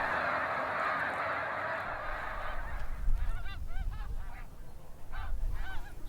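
Migrating geese honking at Lac-Saint-Pierre, Quebec: a run of repeated honks from a flock starts partway through, moderately near, after a stretch of broad rushing background noise.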